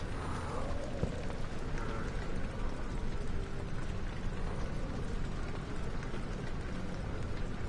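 Rain in the video game Amnesia, on the level Rainy Hall, makes a dense, even wash of falling water with a low rumble underneath, steady and unbroken throughout with no voices.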